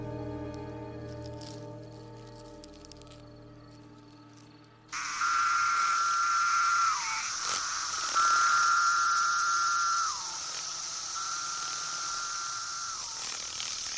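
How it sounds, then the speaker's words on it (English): Periodical cicadas emerging after seventeen years swarm a forest, their chorus rising suddenly into a loud, shrill, sustained whine that pulses in long repeating swells over a quieter tonal background. "After an absence of 17 years, the forest is now overrun by cicadas."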